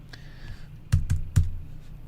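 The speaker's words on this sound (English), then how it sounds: "Can you hear the clicking?" Computer mouse or keyboard clicking during a live stream, a few sharp close clicks in a quick cluster, then quiet.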